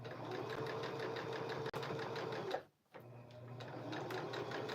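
A sewing machine runs continuously, stitching a zigzag with a fast rhythmic chatter, faint and steady, with one brief pause near the end before it resumes.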